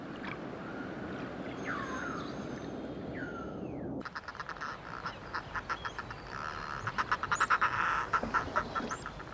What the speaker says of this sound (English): Migrant fulmars congregate in huge flocks to feed in the open water at the entrance of the sound.